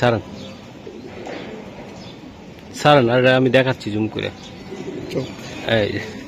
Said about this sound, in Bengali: এই যে মাদিটা, মাশাআল্লাহ, 2টা কবুতর ভাই চমৎকার